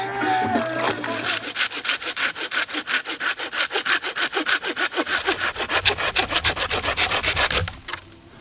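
A hand saw cuts through wood at a kayak campsite in a state park, with quick, even back-and-forth strokes in a steady rhythm, loud and close, before the cutting stops.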